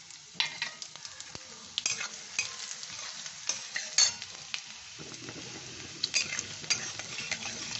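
Chopped ginger, cumin and black pepper frying in a pan for ven pongal, a crackling sizzle with repeated metal spoon scrapes and clinks, close and fairly quiet, no voices.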